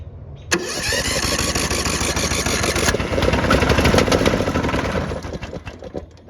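A small lawnmower engine sputters, catches and roars into a steady loud run, with its pitch wavering slightly before it eases off near the end.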